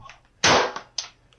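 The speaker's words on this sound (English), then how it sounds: "Shots fired. Shots fired. Shots fired." A police shootout: one loud, sharp gunshot crack, followed by two fainter pops a moment later.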